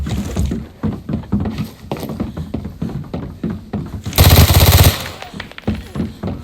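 Rapid automatic gunfire in the shooter Arena Breakout, a dense loud burst of shots lasting under a second, set among repeated nearer thuds and movement sounds of the firefight.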